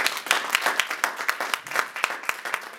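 A church congregation at a Sunday service applauding, with dense, steady clapping from many hands, loud and close, continuing with no break for about three seconds.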